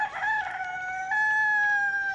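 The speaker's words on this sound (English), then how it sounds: "the rooster with the cock-a-doodle-doo in the background" A rooster crows in a 1967 Beatles recording, one long, clear cock-a-doodle-doo that rises and then holds a drawn-out, fairly loud note.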